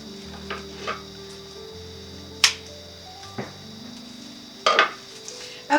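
The excess straw ends of a handmade whisk broom are trimmed off, giving a few sparse, sharp clicks and snips with quiet pauses between them, close by.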